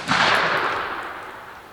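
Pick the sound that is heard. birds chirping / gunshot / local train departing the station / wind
gunshot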